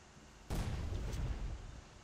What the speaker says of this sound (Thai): นี่ไงระเบิดโผล่มาแล้ว